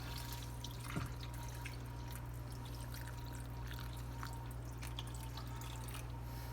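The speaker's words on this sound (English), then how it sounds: "Take this can of water and add this water into this pot." Water from a full can pours into a cooking pot while Sicilian meat-stuffed artichokes are made; a faint, continuous trickle sits low against a quiet kitchen background.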